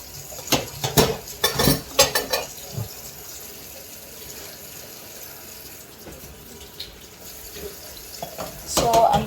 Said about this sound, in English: I want to be rinsing the peppers here